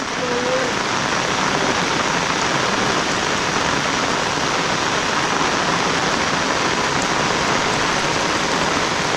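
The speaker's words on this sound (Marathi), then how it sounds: "हा बघा आता परत तुफान पाऊस आला मुसळधार पाऊस" Heavy rain pours down in a loud, unbroken roar at a village house, a dense steady wash of water hitting surfaces close by.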